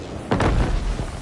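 A single muffled boom of fireworks going off in the Spider-Man 2 video game, a short deep thump with a quick burst and a fading tail.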